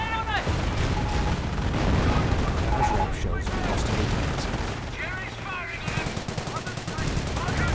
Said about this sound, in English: And looks like artillery's on the way.